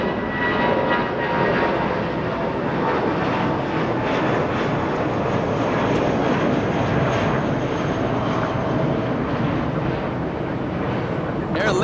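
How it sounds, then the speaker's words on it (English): An Aer Lingus Airbus A330-300 in green shamrock livery at Los Angeles International Airport gives a loud, steady jet engine roar that holds throughout. A voice talks faintly underneath. "That's an A330-300. Aer Lingus, a green Shamrock plane."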